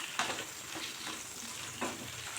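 Raw plantain pieces cooking in oil with turmeric and salt, giving a steady close sizzle with a few brief scraping stir strokes.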